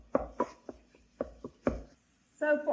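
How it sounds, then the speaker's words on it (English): Thawed hash browns being chopped with a meat chopper, a series of sharp irregular chopping thuds, about eight close strikes, followed by a brief voice at the end. "We're going to start chopping this up with our meat chopper."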